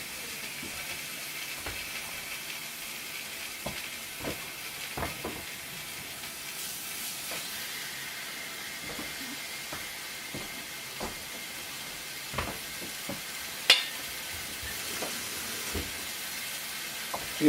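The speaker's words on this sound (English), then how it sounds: "add a little water so I get a little steam around it" Food sizzles in a hot pan after a splash of water is added to steam it, producing a steady, moderate hiss with scattered small pops and spatula clicks.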